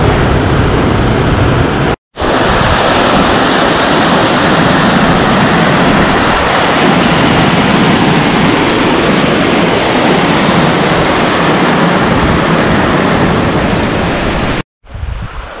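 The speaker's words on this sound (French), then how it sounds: "Je crois qu'il y a une cascade là-bas." A waterfall in the Pyrenees mountains roars as loud, steady broadband rushing water, continuous and close, with two brief dropouts in the sound.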